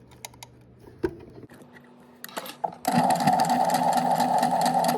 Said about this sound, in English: I'll now sew it lengthwise on one side.